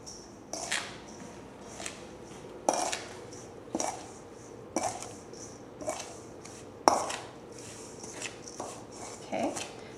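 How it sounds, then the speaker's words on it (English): Berry filling with sugar and cinnamon being stirred in a bowl for a Saskatoon berry (juneberry) recipe, giving about a dozen soft clinking scrapes in a loose rhythm, close and moderately quiet, with no talking. "Okay, now we're going to mix this up."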